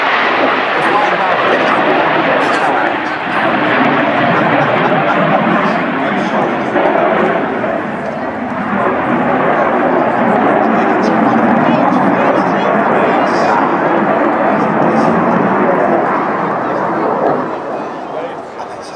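A Saab jet flying past at an air show, a loud sustained engine roar that fills the whole stretch, with a slight swell and fade as it passes.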